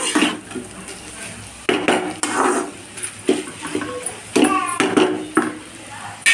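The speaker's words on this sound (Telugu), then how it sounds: "ఇలా బాగా కలుపుకొని మూత పెట్టేసుకొని ఫ్రై చేసుకోవాలండి" Ivy gourd and fresh coconut fry is mixed in a pan and covered with a lid: close metal scrapes, clinks and clatters come in uneven bursts over a faint sizzle, with a voice speaking at times.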